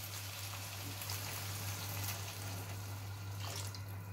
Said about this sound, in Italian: Aggiungiamo dell'acqua